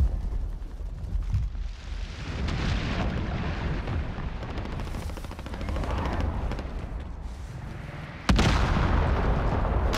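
An anti-aircraft gun fires in the Call of Duty: Modern Warfare game amid dense, rumbling battlefield noise, heavy booms and rattling bursts blending into a continuous roar with a sharp louder surge near the end.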